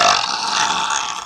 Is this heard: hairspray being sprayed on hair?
no